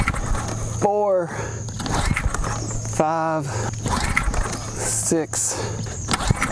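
A Mercury/Tohatsu 6HP outboard motor being pull-started, with three rasping cord pulls, each a rising whirr, over a low steady idle hum, while a person counts aloud.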